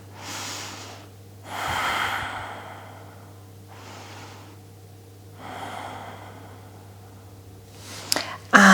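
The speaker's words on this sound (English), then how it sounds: "taking some nice deep breaths." Slow, deep breaths taken during a floor Pilates glute stretch, several long inhales and exhales spaced a few seconds apart, close and fairly soft against a steady low hum, with no talking.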